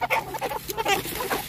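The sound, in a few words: chickens clucking before harvest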